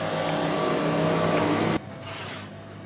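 A Harbor Freight air compressor runs loud and close with a steady motor drone and tonal hum, then cuts off abruptly partway through, leaving a softer hiss that fades.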